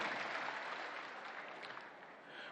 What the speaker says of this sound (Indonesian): Sekali lagi boleh kita berikan tepuk tangan yang paling meriah untuk Dr. Honoris Causa Bapak Surya Dharma Paloh.